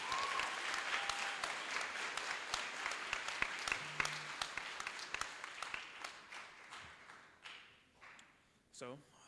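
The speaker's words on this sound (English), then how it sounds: "Could we give another round of applause?" Live audience applause with distinct individual claps over a dense crowd wash, steady for several seconds and then thinning out and fading, with a few isolated claps and noises near the end.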